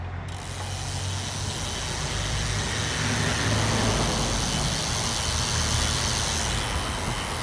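A road bicycle's rear freewheel hub ratchets continuously, its rapid, fairly loud clicks blurring into a loud, steady buzz throughout.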